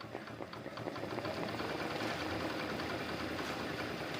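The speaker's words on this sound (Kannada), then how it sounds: "ನೋಡಿ ಇವಾಗ ನಾನು ಮಷಿನ್ ಎಂಬ್ರಾಯ್ಡ್ರಿ ಜರಿ ಥ್ರೆಡ್ನ ಹಾಕ್ಕೊಂಡಿದ್ದೀನಿ ಮಷಿನ್ಗೆ" A sewing machine stitches embroidery with zari thread, running as a steady, fast mechanical clatter with a continuous rhythmic motor hum throughout, close and fairly quiet.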